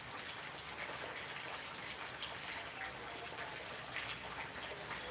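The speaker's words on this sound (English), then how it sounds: "this is not the best time for rain" Steady rain falls at night on a farm with open-field crops, a constant close hiss with scattered drop patters, no voices present.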